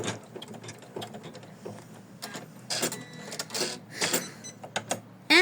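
A sewing machine stitches lace onto fabric held in an embroidery hoop, running in uneven bursts with short pauses between stitching runs. The machine is close and clear, with no talking.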